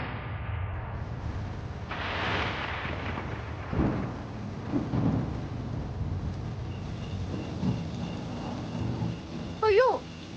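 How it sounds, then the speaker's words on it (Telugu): Rain falls steadily in a village while low, distant thunder rumbles through it, with a brief voice near the end. "అయ్యో, వర్షం కూడా మొదలైంది."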